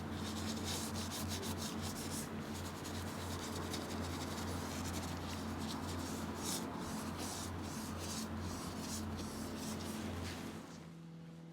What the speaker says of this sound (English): The vents and details on top of the Targa's tea tray were tended to with a brush which was carefully dipped into the small sample pot before being worked in